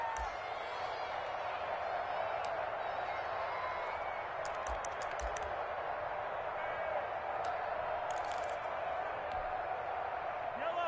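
Stadium crowd in a football video game during a Kansas City Chiefs game, a steady broad roar of cheering with scattered whistles and claps, sustained throughout.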